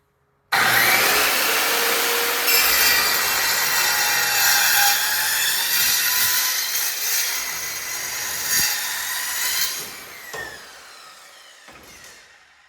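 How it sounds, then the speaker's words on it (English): A saw cuts metal stock for step deck trailer hay racks. A loud, harsh, continuous grinding whine runs nearly ten seconds, then fades and sputters out near the end. "Safety glasses are absolutely necessary for these saws. They throw all kinds of metal everywhere."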